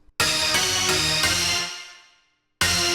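Recreated 90's rave stab synth patch built in Ableton plays a loud, bright chord stab that repeats quickly, then fades out before one more hit starts at the end.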